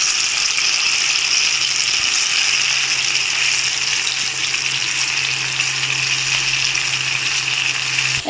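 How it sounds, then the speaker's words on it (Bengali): Pieces of banana flower fry in hot oil with a steady, dense sizzle that holds close and loud throughout, with a faint low hum running underneath and no voices. "হালকা লাল লাল করে ভেজে তুলে নেব।"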